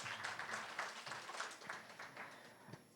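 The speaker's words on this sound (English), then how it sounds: "Can we have a round of applause for all our panelists and our moderator?" Audience applause for a panel of speakers and a moderator at an education and employability panel discussion, a steady crowd clapping that holds for the full three seconds and tapers slightly at the end.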